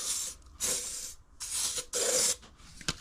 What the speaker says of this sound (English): So I'm just gonna give them a little spray down so they don't rust